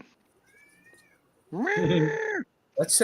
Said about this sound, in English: Somebody's cat's like crying. I keep hearing it.